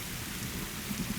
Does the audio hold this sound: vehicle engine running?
no